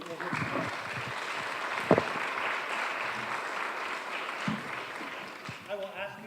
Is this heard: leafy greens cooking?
no